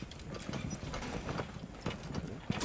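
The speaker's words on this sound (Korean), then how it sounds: "우측에서 계속 발소리 들린다." Footsteps in a video game, with repeated clip-clop-like steps thudding at an uneven pace over constant game noise and a steady mechanical background.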